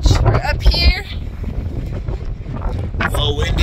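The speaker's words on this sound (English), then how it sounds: "A little windy, but absolutely beautiful." Gusty wind buffets the microphone on a high mountain ridge in Colorado, a rough rumbling roar with louder bursts at the start and end, while people talk.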